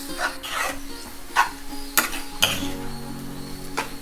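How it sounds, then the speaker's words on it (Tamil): A spoon stirs beaten egg through radish poriyal in a pan, with scraping clinks of utensil against metal at about 1.4, 2.0 and 2.4 seconds over a soft steady sizzle. "உடச்சி ஊற்றி நல்லா கிளறிடலாம்."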